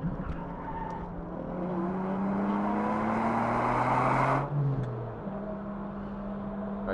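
A 2000 Ferrari 550 Maranello racing in a Ferrari Challenge event, its engine droning at steady revs with rising and falling pitch as tires squeal and skid loudly through a corner, then the engine settles back.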